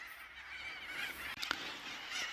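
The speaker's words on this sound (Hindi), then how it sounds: "फिलहाल यहाँ पर तोताओं ने आतंक मचा रखा है," A flock of parrots calls from a tree outdoors, with overlapping harsh, squawking cries and chatter forming a continuous noisy chorus at moderate distance and a louder squawk near the middle.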